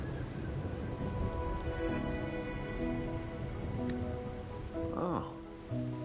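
Steady rain falls in Wuthering Waves, a soft continuous patter that fills the scene, with some brief game tones and a voice speaking near the end.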